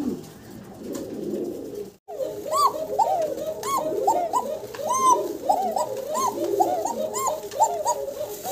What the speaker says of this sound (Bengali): ককার ডাক শুনাইলাম আপনাদেরকে, খুব মধুর ডাক।